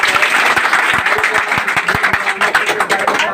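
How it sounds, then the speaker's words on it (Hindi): Loud, close applause from a classroom audience of students, a dense burst of clapping with distinct sharp individual claps standing out, continuing without pause. "तालियां हो जाए।"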